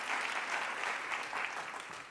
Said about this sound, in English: That's a good thing to applaud for.